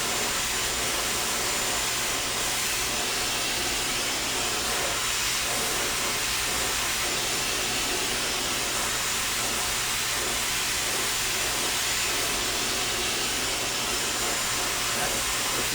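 A handheld hair dryer blows continuously at close range during a hair blowout with a round brush, a loud, steady broadband hiss and whoosh running unbroken throughout.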